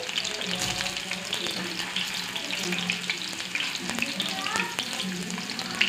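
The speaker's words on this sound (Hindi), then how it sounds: "मैंने बगैर अंडे रखे कोफ्ते फ्राई कर रही हूँ पहले ब्राउन हो जाएं थोड़े थोड़े" Eggless kofta balls for nargisi kofte fry in hot oil with a steady, dense sizzle and crackle, broken by occasional stirring clinks and scrapes throughout.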